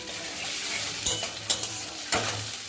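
Paneer masala fries with a steady close sizzle in a pan while a utensil stirs and scrapes it, with a few sharp clanks against the metal, and no voices.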